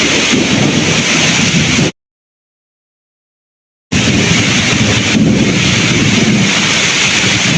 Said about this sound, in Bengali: আজকে মনে হয় কালবৈশাখী ঝড় একবারে সম্পূর্ণ পুরো হয়ে গেছে।